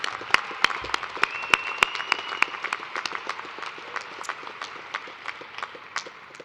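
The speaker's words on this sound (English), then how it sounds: "Let's give a round of applause for everyone who helped make this celebration a special occasion." Scattered applause at a graduate commencement and doctoral hooding ceremony: a thin scatter of distinct individual claps heard in a large space, fading gradually, with no talking.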